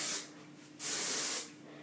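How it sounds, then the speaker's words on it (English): Hairspray sprayed onto curled hair while styling a cheer hairdo: two close hissing aerosol bursts, a short one first and then a longer, steady one, with no talking. "I'm going to spray it big on it to help shape it into the shape I want it to be in."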